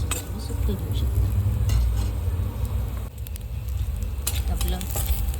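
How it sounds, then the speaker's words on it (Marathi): Fresh grated coconut roasting in a pan for a chicken thali, a steady low sizzle with occasional stirring scrapes and light clinks of utensils throughout. "आता आपण खोबरं भाजून घेऊया."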